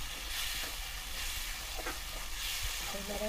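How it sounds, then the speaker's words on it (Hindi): Fried eggs being stirred into a sizzling onion-and-spice curry masala in a pan, a continuous soft hiss and crackle with faint scraping stir sounds, close and moderately quiet. "अब हम इसमें फ्राई किए हुए अंडे को मिला देंगे"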